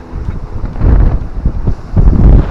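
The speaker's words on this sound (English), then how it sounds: "It's going to be a windy day today." Strong gusty wind batters the microphone at a sea fishing spot on Saltom Bay in the Lake District, low rumbling surges rising and falling, loud and close.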